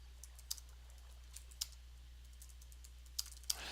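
Sparse, quiet keyboard clicks tap out a few scattered keystrokes over a low steady hum.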